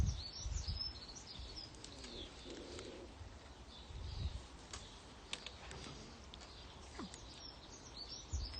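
A pet bird named Sophie gives faint, scattered chirps and soft coo-like calls indoors, with light ticking and clicks between them in a quiet room.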